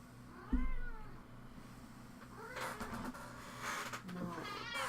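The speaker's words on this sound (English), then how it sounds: "Jealous cat." A cat meows repeatedly in a jealous, insistent way inside a home, the short rising calls close and clear over a low steady background hum, with a person's voice briefly audible.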